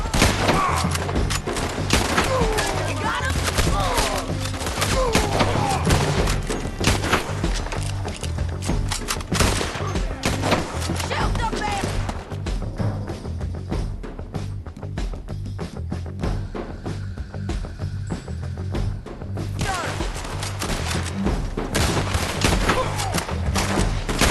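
Dense gunfire rattles through a Red Dead Redemption II shootout, continuous loud overlapping shots and booms, easing briefly midway before building again, with faint voices buried in the mix.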